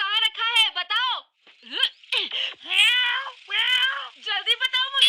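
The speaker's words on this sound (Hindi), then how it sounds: "हे, काली बिल्ली!" A black cartoon cat gives a quick series of drawn-out, wavering meows, some rising into whiny wails, with short pauses between.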